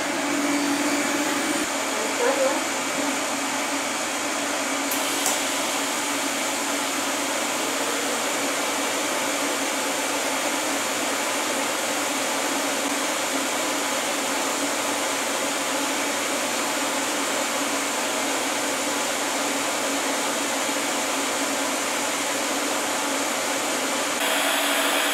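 A TIG welder runs lines along metal with a steady, continuous hiss and hum lasting throughout, close and even in level, with no clear talk over it.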